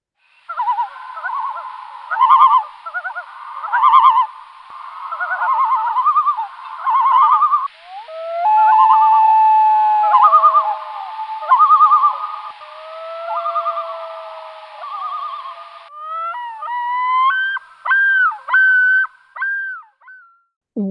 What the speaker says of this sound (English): This is the call of the Great Northern Diver.